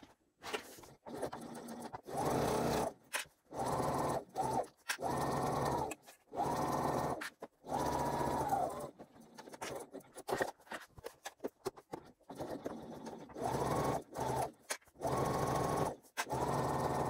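A home sewing machine runs in repeated bursts while stitching the top and bottom edges of a fabric crossbody bag at a 3/8-inch seam. The motor whirs close and steady, with brief pauses between runs and no talking.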